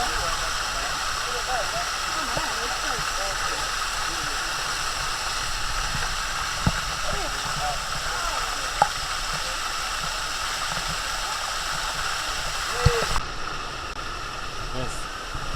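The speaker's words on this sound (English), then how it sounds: "As you can see, the water's running the whole time." Steady broadband rush of water running over the Sticky Waterfall in Chiang Mai, Thailand, continuous and fairly close, with voices talking intermittently and a few brief knocks, the flow thinning in the final seconds.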